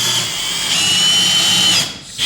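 A power drill runs steadily for nearly two seconds, tightening a bolt into a wall mount for an 85-inch TCL QLED TV during a home installation, then cuts off abruptly, loud and close.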